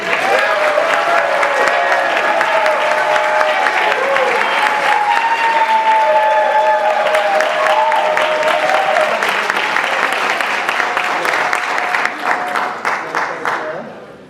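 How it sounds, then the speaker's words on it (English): Audience at a mayoral debate gives a long round of applause, steady dense clapping with some cheering and voices underneath, thinning into a few last claps at the close. "Let's give one big round of applause for Ronni"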